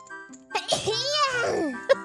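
A quick, light sneeze bursts out among casual chatter from young-sounding voices during a gaming session, with a short sharp sniff-like snap near the end.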